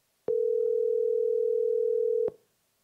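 A steady telephone dial tone on a call line, one clean continuous hum lasting about two seconds, beginning and ending abruptly with no voices over it.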